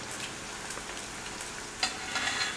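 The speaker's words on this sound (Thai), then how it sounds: "ถ้าน้ำมันมันท่วมท่วมอาหารที่เราทอดแบบนี้ครับ" Chicken wings deep frying in a pot of oil, marinated with fish sauce, give a steady close hiss of bubbling fat, brightening with a few louder crackles near the end.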